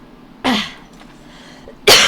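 A person with a lingering chest cold coughs twice, each a harsh, loud burst close to the mic, with a short quiet gap between them and no talking.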